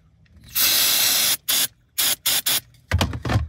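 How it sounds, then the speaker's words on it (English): Electrical contact cleaner spraying in bursts into a Nissan Altima's volume knob: one long blast, then several short squirts, a pause, and two rougher final sprays, close and loud. "So what I'm going to do is just spray it in here."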